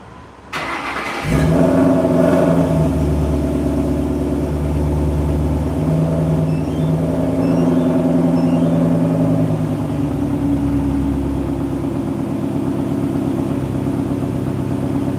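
Ford Mustang started by remote start: a quiet moment, then the engine catches with a sudden loud burst at about one second and settles into a steady, deep, close idle that continues to the end.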